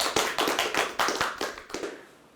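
A small group of people clapping after a request to applaud, in about eight or nine separate sharp bursts at an uneven pace, fairly close, fading out at the end.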